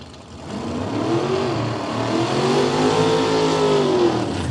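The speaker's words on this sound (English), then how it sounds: "Get the car noises rolling." Race cars rev their engines at a radial drag racing event at Willowbank, Australia, a loud continuous roar with rising and falling pitch sweeps, close and alone without talk.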